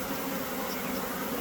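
Honeybee swarm during a net capture, a dense, steady buzzing of many bees, close and loud throughout.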